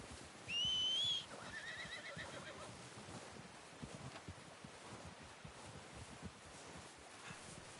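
A horse in the video game Red Dead Redemption 2 whinnies once, short and high, followed by soft rustling and faint hoof movement in a quiet outdoor setting.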